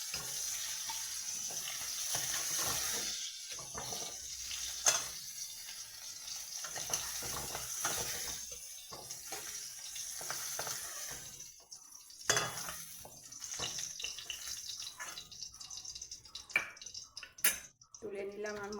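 Prawns frying in oil in a pan for potol chingri, a soft sizzle broken by scraping and clattering of a spatula and pan, with a few sharp knocks and some faint voice in the background.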